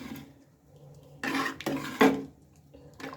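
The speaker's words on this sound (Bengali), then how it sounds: "এটা আগে আমি ভালোভাবে মিশিয়ে নিচ্ছি" A spoon scrapes and knocks inside a cooking pot of dal khichuri in a few short, close bursts of stirring, separated by quiet pauses.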